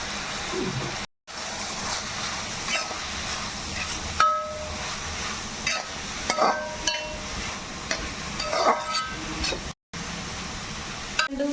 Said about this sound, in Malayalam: നമുക്ക് നന്നായിട്ടൊന്ന് ഫ്രൈ ചെയ്ത് നോക്കാം